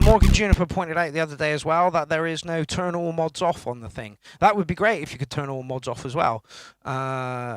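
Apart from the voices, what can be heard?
No everyday noises stand out.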